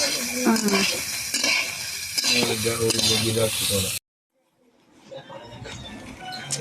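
Food frying and being stirred in a home kitchen pan, with a busy sizzle and scraping spoon strokes that stop abruptly, followed by a quieter stretch of faint kitchen noise.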